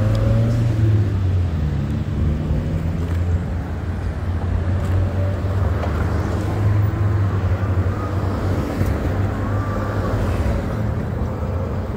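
Car on a road heard from inside a moving vehicle, steady engine and road rumble with a passing vehicle's swell and fade, wind noise, no talk.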